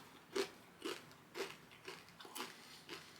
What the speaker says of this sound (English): Miss Vicky's for sure is a crunchier chip